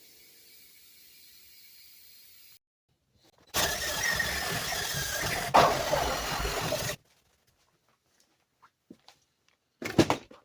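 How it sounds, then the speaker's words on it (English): A wire brush scrubs hard against a welded steel car body panel in one loud, harsh, gritty burst lasting a few seconds, followed by quiet and a couple of short scraping touches near the end. "I'm going to go in here with a wire brush this off"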